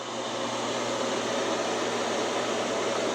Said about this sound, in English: So it has a 4-speed fan. This is it on 4.